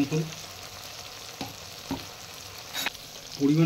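Potatoes frying in a pan for a plain vegetarian potato curry, giving a soft continuous sizzle with a few stirring scrapes and clinks, close and moderately quiet, with no talk.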